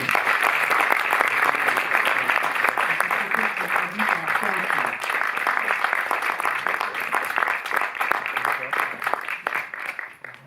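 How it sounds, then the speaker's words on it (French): An audience at the Cinémathèque in Paris applauds Rob Legato, the visual effects supervisor, as he is introduced before a screening of Hugo. Loud, dense clapping fills the hall throughout, tapering slightly at the end, with voices faintly mixed in. "Alors je vous demande d'applaudir Rob Legato"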